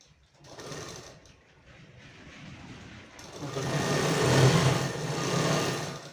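A sewing machine stitches a double-folded hem on a school shirt, its motor whirring steadily for several seconds and growing louder and busier in the second half, with no talk over it.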